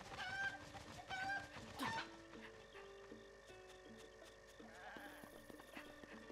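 A rooster clucks and crows in the video game Zelda Breath of the Wild, with a few sharp calls early on, then quieter game tones and ambience, all faint.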